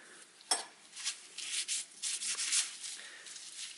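Rag or pad rubbing inside a Toyota Corolla engine cylinder, a close scratchy friction in quick irregular strokes with brief pauses between them.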